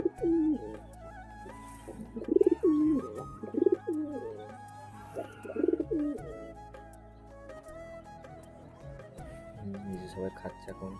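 Domestic pigeons at a home coop give repeated low, throaty coos in rolling bursts, close and fairly clear, with a person talking intermittently alongside.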